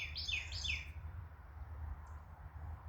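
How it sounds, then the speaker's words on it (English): A hidden bird gives a quick series of three or four bright chirps, then falls silent over a low outdoor rumble, with one faint later note. "I wish I can see where that bird is."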